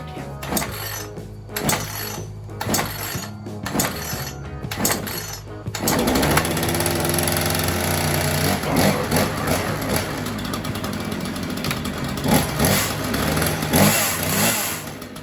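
A Troybilt chainsaw engine sputters through a few pulls and short bursts, then catches and runs steadily at a loud, close idle with a rough, buzzing rattle.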